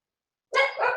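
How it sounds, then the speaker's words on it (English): A pet dog lets out a single sharp, fairly loud bark that trails into a second yelping note after a moment of silence, close by with no talking. "I'm sorry about my dog barking"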